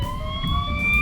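An ambulance siren at a traffic crash wails loudly and steadily with bright, piercing tones over a low rumble of traffic.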